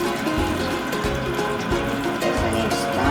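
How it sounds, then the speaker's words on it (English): Cold tap water runs steadily over drained noodles in a kitchen sink, a continuous splashing rinse heard close and fairly loud throughout. "And we're gonna run under cold running water over the noodles."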